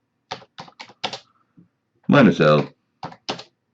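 Keys clack on a computer keyboard as a Linux command is typed, a few quick separate taps followed by a voice speaking, then two more taps.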